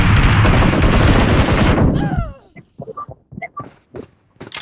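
Rapid bursts of automatic gunfire from an online multiplayer shooter match in 3v2 mode fire loudly and continuously for about two seconds, then cut off into scattered short shots and game effects.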